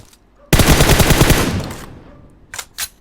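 Gunfire in the mobile battle royale game PUBG Mobile on the Sanhok map: a loud, close burst of rapid automatic fire lasting about a second and fading out, followed by two short separate shots.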